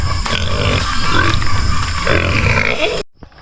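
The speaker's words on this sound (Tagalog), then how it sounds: "nagpapakain na dito sa baboy" Pigs on a farm grunt loudly and continuously at close range while being fed, a dense overlapping chorus of snorts that cuts off abruptly near the end.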